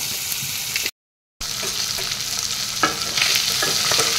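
Fish pieces coated with turmeric and spice powder fry in a pan, a steady close hiss with stirring scrapes, broken by a brief silent gap before the sizzle resumes, slightly louder toward the end.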